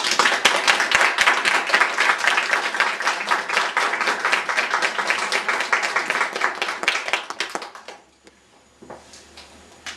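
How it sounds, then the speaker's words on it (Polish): An audience at a kindergarten ceremony gives warm applause to welcome the children: loud, dense, continuous clapping for about eight seconds, then it drops to a few scattered claps. "ja proponuję przywitać dzieci gorącymi oklaskami"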